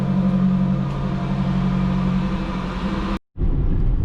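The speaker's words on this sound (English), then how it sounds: "Look at all the cars passing me because I have to drive slow" Cars pass on the road beside a slowly driven vehicle, heard as a steady loud rumble of engines and road noise from inside, with a brief cut near the end.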